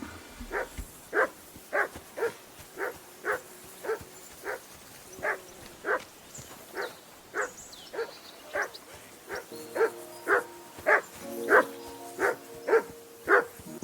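A dog named Mutt in the PS5 game Kingdom Come Deliverance 2 gives a steady run of about twenty short, evenly spaced yelping barks and whimpers, fairly close, growing slightly louder near the end.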